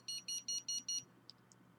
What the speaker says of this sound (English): this would start alarming as it just did